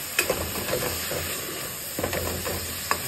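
Food sizzles in a cooking pan with a steady close hiss of frying, dotted with a few small pops and crackles.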